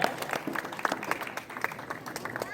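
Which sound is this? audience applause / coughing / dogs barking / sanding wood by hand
audience applause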